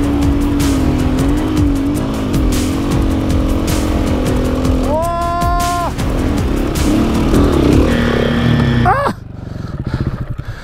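Motorcycle engine revs hard on sand dunes, its pitch climbing and falling through throttle bursts up close before cutting off sharply near the end, with a loud, continuous motor drone throughout.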